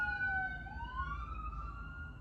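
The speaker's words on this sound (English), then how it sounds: "the universe sent 2 sirens to get your attention" Two sirens wail at once, their tones sliding and wavering against each other, fairly close, over a low traffic rumble.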